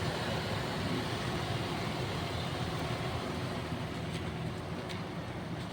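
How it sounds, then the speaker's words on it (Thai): Constant whooshing drone of the air conditioning fan blowing steadily inside a 1999 Toyota Sport Rider, broadband and unchanging throughout, with no voices. "เราเปิดแอร์พัดลมก็ดัง"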